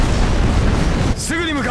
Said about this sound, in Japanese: キャノン砲命中だ。